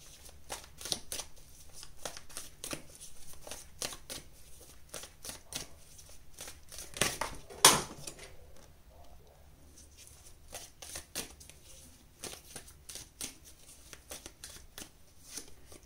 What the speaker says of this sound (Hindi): यहाँ से भी आपके लिए कार्ड्स निकाल लेते हैं